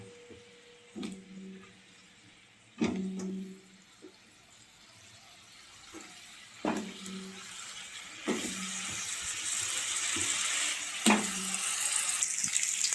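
Potato pieces frying in oil previously used to fry cauliflower, a home-cooked Bengali potato, cauliflower and pea curry: soft crackling that swells to a steady sizzle, with several sharp clunks and scrapes of a utensil against the pan.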